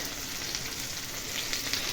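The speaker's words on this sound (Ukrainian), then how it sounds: "Так що смажиться, пахне риба на всю хату." Steady, loud sizzling and crackling of fish frying in a hot pan, close up and continuous.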